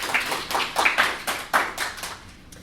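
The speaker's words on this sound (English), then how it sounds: "everybody just give a quick round of applause" A small conference audience at MidCamp gives brief, sparse applause: a handful of distinct, fairly close claps in an uneven rhythm that fades out.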